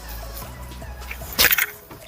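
A car's remote lock chirps with a short electronic beep and click, brief and fairly close, against faint outdoor background.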